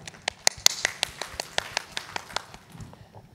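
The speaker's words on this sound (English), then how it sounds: "Let's give a round of applause to all the marketers." Scattered applause at an event honouring marketers, a sparse run of distinct, fairly quick claps, a few hands near the microphone, tapering off after about three seconds.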